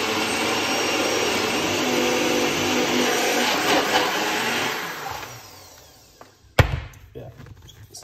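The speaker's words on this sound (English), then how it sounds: "I know that this is not a big blender, so what we're gonna do is blend it up a little bit" A small blender whirs loudly and continuously as it blends pineapple for about five seconds, then winds down and stops, followed by a sharp knock and a few light clatters.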